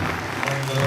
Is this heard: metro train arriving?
no